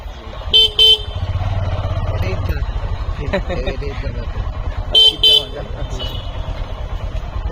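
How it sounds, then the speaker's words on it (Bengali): A motorcycle rides along a road toward a village market with its engine droning steadily and close, while sharp horn toots sound twice in pairs and people talk over the traffic. "অভিজ্ঞ হাতে মোটরসাইকেল চালাচ্ছেন আমাদের প্রিয় মোহাম্মদ আলী ভাই"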